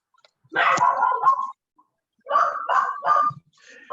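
A dog barking outside in the street, a few short bursts of barks in two groups separated by a pause, heard at moderate distance.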